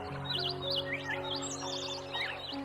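Birds of the Amazon rainforest calling, with several wavering, warbling whistled calls and chirps that repeat over steady tonal background calls, fairly close and clear, with no speech.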